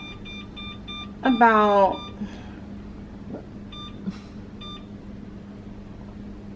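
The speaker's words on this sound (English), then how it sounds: "I'm gonna set a timer" A kitchen timer being set, giving a short run of quick electronic beeps followed by a few isolated single beeps over a steady low room hum, with a voice speaking briefly.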